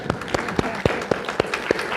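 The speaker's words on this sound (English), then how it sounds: "That applause was also for the question." Audience clapping during a university lecture, heard as sparse, evenly spaced sharp claps at a steady rhythm of about four per second, fairly close, with no voices.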